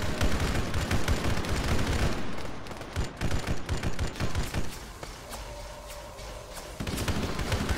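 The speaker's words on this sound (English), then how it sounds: "Stay on that gun. Don't stop firing." Sustained turret gunfire in Arma 3 (Halo mod) pounds in rapid, heavy bursts, easing briefly near the end before resuming, mixed with other battlefield noise.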